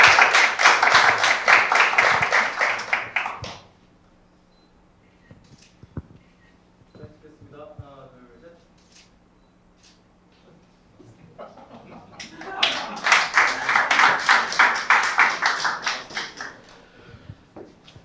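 An audience applauds award winners at a university startup competition ceremony, two bursts of loud, dense clapping separated by a quieter stretch.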